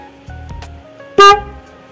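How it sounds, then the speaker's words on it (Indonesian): A single low-pitched Denso snail-type car horn wired through a relay honks once, loud and brief, after a few faint clicks and a short hum. "Suaranya seperti apa kalau menggunakan satu klakson"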